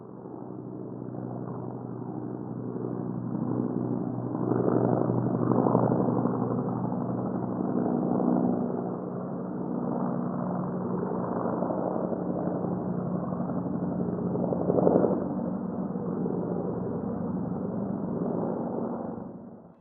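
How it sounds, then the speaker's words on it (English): A steady low rumbling drone of an Apache attack helicopter passing at a distance, swelling slightly and fading, with faint rhythmic rotor thrum throughout. "I think that was an Apache attack helicopter"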